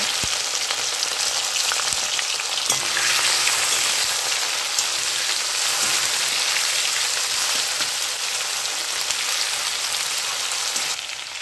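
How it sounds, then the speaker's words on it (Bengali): Shrimp fry lightly in a pan for a village-style cauliflower and shrimp dish, a loud, steady hiss of sizzling oil that runs unbroken throughout with no talking. "এবার আমি চিংড়ি মাছগুলো হালকাভাবে ভেজে নেব।"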